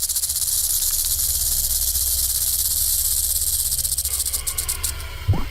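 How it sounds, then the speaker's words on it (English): A continuous dry, buzzing rattle of a rattlesnake's tail, loud and close, holding steady before a brief scuffle at the end. "The older the rattlesnake gets, the longer its rattle."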